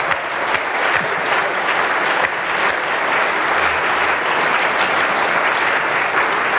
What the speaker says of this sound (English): a big round of applause for Friedrich Merz and the team at Atlantik